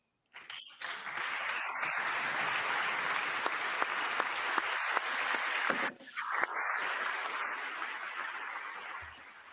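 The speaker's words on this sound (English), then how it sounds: "We got the golf clap." An audience at a political address breaks into sustained applause, a broad steady wash of clapping that dips briefly midway and resumes, continuing to the end.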